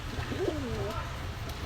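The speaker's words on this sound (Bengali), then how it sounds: "খুবই সুন্দর কবুতর" A young pigeon at a high-flyer pigeon market gives a single soft, rolling coo, close by, over a low steady background hum.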